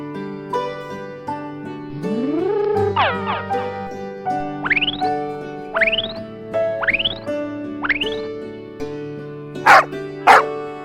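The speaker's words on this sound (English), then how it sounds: "This is dog." A cartoon-style dog barking amid a bouncy children's music track, a series of short upward-bending bark yelps spaced through the tune, loud and up front.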